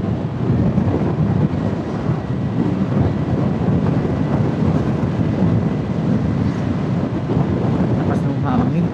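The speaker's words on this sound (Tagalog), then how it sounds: "Lakas ng hangin." Strong wind roars across the microphone during a Honda PCX160 scooter ride up Kennon Road toward Baguio. A constant loud, rumbling buffet with no break.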